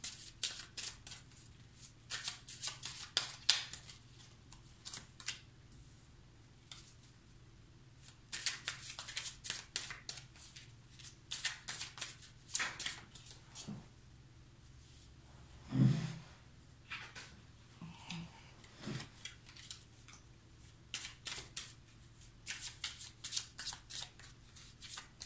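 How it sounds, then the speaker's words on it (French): Tarot cards are shuffled and drawn close up in a quiet room, a series of soft riffling and flicking bursts with brief pauses between them, faint and intimate. "je tire les cartes et après je vous dis."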